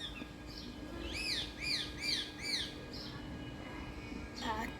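A bird gives a run of four clear, rising chirps in quick succession, then a few softer calls, over a faint outdoor hum.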